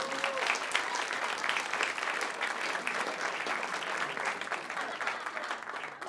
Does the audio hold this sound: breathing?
no